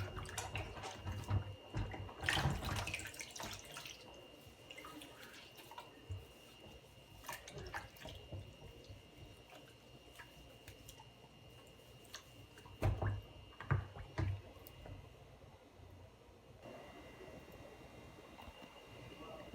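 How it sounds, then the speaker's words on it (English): Acorn squash being rinsed under kitchen tap water, giving a quiet, steady trickle with intermittent splashes and drips, louder in a few short bursts as the squash is turned under the stream. "Now we have finished washing our squash"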